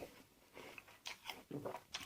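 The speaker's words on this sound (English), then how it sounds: "Crunchy, easy crunchy, not soft, not easy to crunch" Several crisp bites and crunches into a fresh Rajka apple, close up, with a few sharp crackling bursts spaced unevenly and soft chewing between them, no talking.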